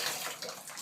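Tap water runs steadily, filling a bath for a green Amazon parrot; a continuous broadband splashing hiss, fairly close, with no talk over it.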